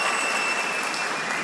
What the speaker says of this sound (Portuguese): Vamos aplaudir a Kátia, aleluia.